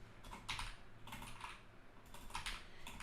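Typing on a computer keyboard with a misbehaving layout, steady bursts of clicking keystrokes in quick clusters, close and fairly quiet over a low background hum, with no talk.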